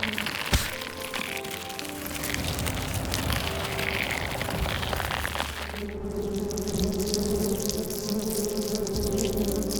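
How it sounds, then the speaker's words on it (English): Wasps and bees buzz busily on an Amazon rainforest floor, a dense steady insect drone with crackling textures throughout, shifting midway to a brighter, more tonal hum that continues to the end. "Busy wasps and bees."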